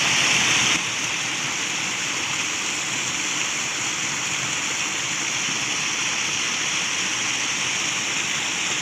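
River water flows with a steady, loud, unbroken rush that fills the whole stretch, with no voices.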